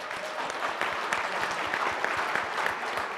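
An audience at a CEO panel event breaks into steady, dense clapping that fills the room evenly for several seconds, with faint voices underneath.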